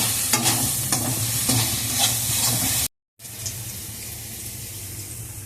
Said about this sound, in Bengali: পেঁয়াজগুলো সব লাল লাল করে ভাজা হয়ে গেছে।